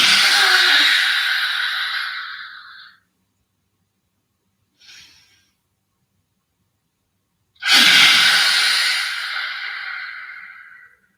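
During a yoga exercise, a person takes two long, close breaths of about three seconds each, separated by a quiet gap with a brief soft breath in between.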